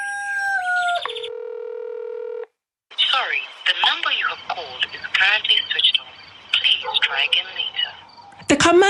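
Automated telephone message saying the called number cannot be reached, opening with a DTMF dialing tone and steady tones, then a recorded voice speaking with rooster crowing and bird calls in the background.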